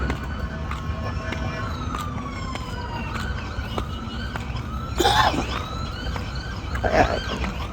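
A police car siren wails and sweeps past on a city street during a police chase, its rising and falling tones loud over heavy traffic rumble, with brief nearby voices.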